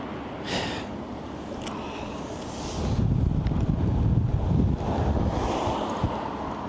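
Strong wind gusts buffeting a microphone outdoors on a roadside in Norway while hitchhiking, a steady rushing roar that swells louder midway and stays heavy to the end, with no talking.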